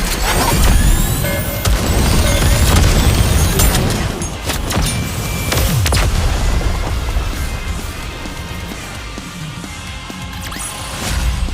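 Dense, continuous battle noise from the mobile shooter game Goddess of Victory: NIKKE, with loud bursts of gunfire layered with booming explosions and crashing impacts, sustained throughout without pause.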